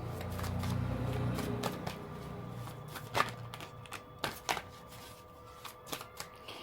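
Tarot cards being handled and laid out on a surface, with soft shuffling at first and then a series of sharp, close, quiet card taps and slaps, no speech.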